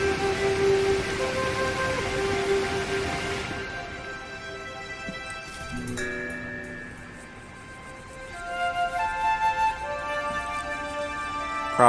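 Heavy rain pours down in the video game Eastshade, a constant hiss that is strongest at first and then thins, while sustained musical tones play over it.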